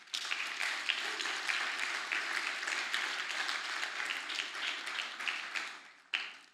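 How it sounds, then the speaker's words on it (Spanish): A church congregation breaks into sustained applause, a dense wash of many hands clapping steadily for several seconds before tapering off, with a short renewed burst near the end. "Dale un fuerte aplauso a Él."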